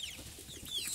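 Chickens cluck softly in a henhouse, a faint cluster of short overlapping calls and chirps with low rustling underneath.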